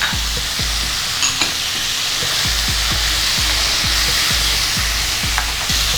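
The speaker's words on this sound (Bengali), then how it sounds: "এর মধ্যেই নিয়ে নিচ্ছি টুকরো করে কেটে নেওয়া কুমড়োগুলো।" Cut pumpkin pieces sizzle steadily in a hot pan, with a regular series of low scraping knocks from stirring running through the continuous frying hiss; no voices.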